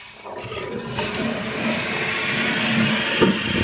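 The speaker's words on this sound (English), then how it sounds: "which then allows the toilet to flush" A toilet flushing after its chain is pulled to lift the flush valve, giving a steady rushing of water that builds and continues throughout, close by with no talk.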